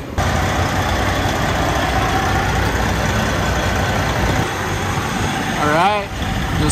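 A vacuum pump evacuating a car's opened air-conditioning system drones in a steady, loud, unbroken hum, with a brief warbling chirp just before it eases off near the end.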